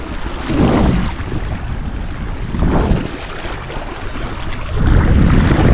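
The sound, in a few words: stronger sea waves stirred by wind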